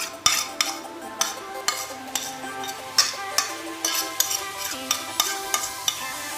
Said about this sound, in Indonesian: ini terus diaduk-aduk sampai airnya sampai untinya benar-benar matang dan warnanya merah